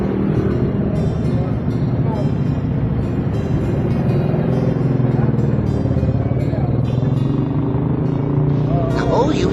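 A motorcycle engine running close by, a continuous low drone with slight revving swells, under people talking nearby.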